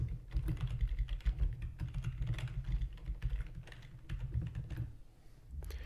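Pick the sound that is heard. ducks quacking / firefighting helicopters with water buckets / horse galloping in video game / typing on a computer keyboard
typing on a computer keyboard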